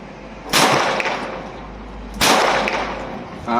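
Two sharp, loud gunshots about 1.7 seconds apart from a Smith & Wesson M36 snub revolver with a 3-inch barrel, fired left-handed, each crack followed by a short ringing decay.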